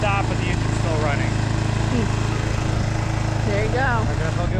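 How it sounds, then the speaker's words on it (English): A lawn mower engine idles on with its blades disengaged, a steady close mechanical hum with a regular pulse, while people talk over it. "The blades stop, but the engine's still running."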